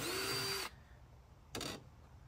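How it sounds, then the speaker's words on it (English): A power drill bores out a broken-off screw stuck in hardware during a furniture refinishing job, with one long whining burst followed by a short second burst after a pause. "now I'm just going to drill the rest of the screw out of there"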